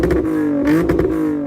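A car with an axle-back exhaust and high-flow resonators revs up loudly in a short burst, its engine note rising and wavering close by.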